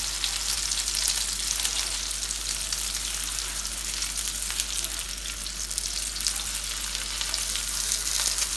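Chicken tikka kababs fry in oil in a pan. A dense, even sizzle crackles steadily and close by for the full length, with no talking over it.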